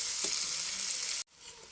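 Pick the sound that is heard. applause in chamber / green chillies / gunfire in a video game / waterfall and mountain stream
green chillies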